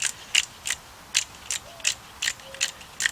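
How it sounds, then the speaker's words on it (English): A torque wrench, used like a breaker bar on a Ford Fiesta engine during head gasket and timing belt work, clicks in a steady series of about ten crisp ratchet clicks, close and distinct. "what I'm going to do is take my torque wrench, and I'm going to bring this all the way up"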